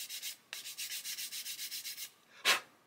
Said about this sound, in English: You can see when the sprue nibs have been sanded.